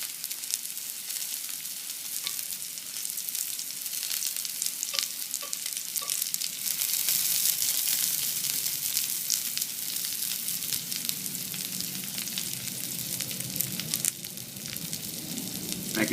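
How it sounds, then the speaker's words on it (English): Hen of the woods mushrooms fry in oil with a continuous crackling sizzle, soft and close, with occasional pops and no voices. "So put them in the oil. Press them down,"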